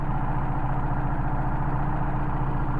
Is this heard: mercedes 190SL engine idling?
yes